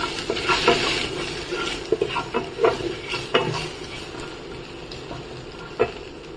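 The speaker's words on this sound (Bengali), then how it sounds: "এবার এই তেলেই আমি একটু কালো জিরে, শুকনো লঙ্কা, তেজপাতা ফোড়ন দিলাম" Nigella seeds, dried red chillies and bay leaves crackle and sizzle in hot oil, a steady frying hiss broken by scattered pops and the scrape of a stirring spoon against the pan.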